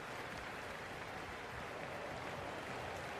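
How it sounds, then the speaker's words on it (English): Steady, dense roar of a cricket stadium crowd buzzing in the stands during a PSL final between Peshawar Zalmi and Hyderabad Kingsmen, a constant wash of cheering and chatter with no clear breaks. "It's the most enthusiastic crowd you could ever see right now. There's a buzz, a real buzz coming from the stands."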